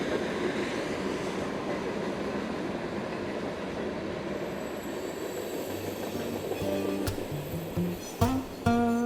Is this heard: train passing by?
yes